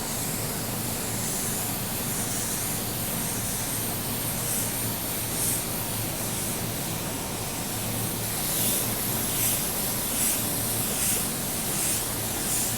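A steady, close hiss of a spray gun spraying primer sealer during car painting, continuous and even with slight pulsing near the end.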